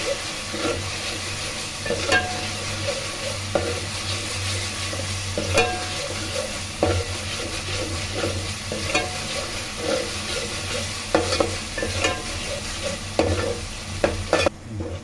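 Sliced onions fry in plenty of oil for a mullet fish curry, sizzling continuously while a spoon scrapes and stirs through the pan in irregular strokes, close and fairly loud with no voices.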